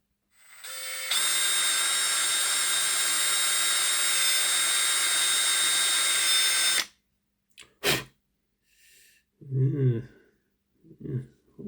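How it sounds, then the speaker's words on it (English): A small drill whines steadily for about six seconds while re-drilling a hole in a Hornby King Arthur Class N15 model locomotive, then stops, followed by brief clicks and a few spoken words. "re-drill that hole a bit"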